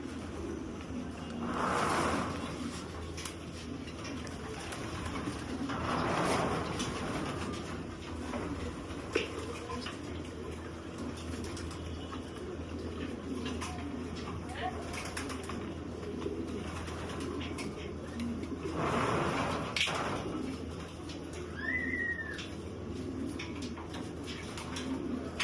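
Racing pigeons coo repeatedly in low, soft bursts over a steady bed of background noise, with a brief higher chirp from another bird partway through.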